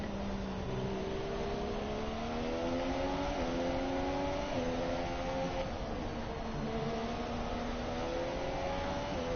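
A Formula 1 car engine in the F1 2017 video game at Abu Dhabi revs steadily and loudly throughout, its pitch gliding up and down through gear shifts with no talk over it.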